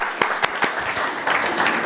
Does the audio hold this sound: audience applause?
yes